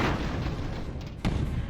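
Bomb blasts in the airship battle game Airships Conquer the Skies, a continuous low rumbling roar of explosions with one sharper burst near the end, loud and without talk.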